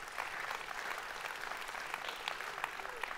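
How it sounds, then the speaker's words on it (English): A church congregation claps together for several seconds, steady dense applause at moderate level with no voices standing out. "Yeah, you guys can clap."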